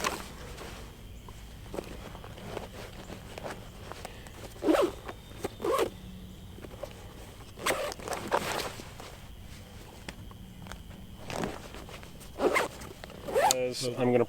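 Zipper on a concealed-carry chest pack pouch, pulled open and closed in a series of short, sharp, close rasps spread across the stretch, mixed with fabric handling and rustling and a quiet voice talking at times.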